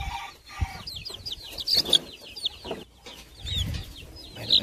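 Young chicks, including a female chick, peep in scattered high chirps among soft rustling and a few low bumps, close and fairly quiet.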